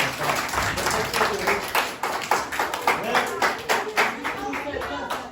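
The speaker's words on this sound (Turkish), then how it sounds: "Sonra teşvik edip bizleri kırmayan değerli halk ozanlarımızı güzel bir alkışlayalım" Audience clapping for folk poets (aşık minstrels) at a traditional minstrelsy event, a dense, steady round of applause with individual claps standing out, speech mingled in.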